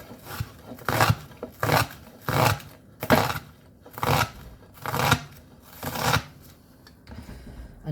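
A knife chops through vegetables on a cutting board in a steady run of about eight firm, crunchy strokes, close and clear with brief pauses between cuts.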